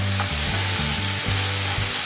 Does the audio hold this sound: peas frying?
yes